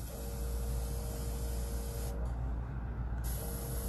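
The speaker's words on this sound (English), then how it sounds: "Check the spray. Nice even spray." Steady, even hiss of an airbrush spraying continuously, close up, with a faint tone running beneath and a brief dip partway through.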